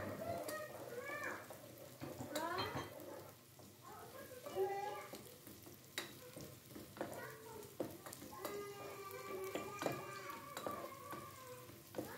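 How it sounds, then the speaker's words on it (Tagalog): Garlic and ginger sizzle as they are sautéed in a pan for paksiw na tilapia, with steady frying hiss, stirring scrapes and clinks, and a voice heard over the cooking. "At ilagay na rin po natin ang bawang at luya at sabay-sabay nating igisa."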